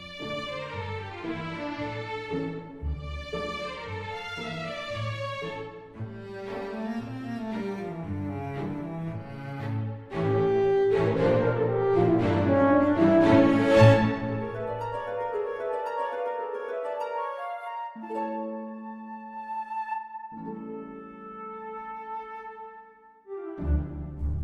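Orchestral mock-up playing a phrase in which every note starts cleanly and distinctly, giving well-defined, articulate gestures. Strings, winds and brass sound at full ensemble weight, swelling toward a loud middle before sustained chords close it out, with no voice.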